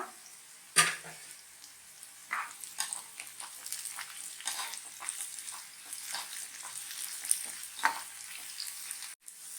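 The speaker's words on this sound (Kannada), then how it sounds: "ಮತ್ತೆ ಒಂದು 4 ಹಸಿಮೆಣಸಿನ್ಕಾಯಿ, ಸ್ವಲ್ಪ ಕರಿಬೇವು, ಇಷ್ಟು ಹಾಕೊಂಡು ಚೆನ್ನಾಗಿ ಫ್ರೈ ಮಾಡ್ಕೊಳ್ಳೋಣ" Crushed garlic, green chillies and curry leaves sizzle steadily in hot oil for a liver fry, with a few louder crackles and stirring scrapes, close and without talk.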